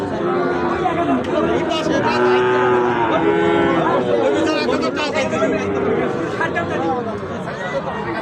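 Sahiwal bull calves mooing amid a busy rural cattle market, with repeated drawn-out lows rising over constant crowd chatter and people talking nearby.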